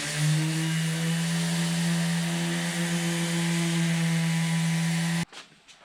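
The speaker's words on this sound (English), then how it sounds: "What I'm doing here is just sanding the faces down, get them nice and smooth before we put the pattern on." A power sander runs continuously on the faces of a wooden bandsaw box, a loud steady motor whine with a droning hum that cuts off abruptly near the end, leaving faint handling noise.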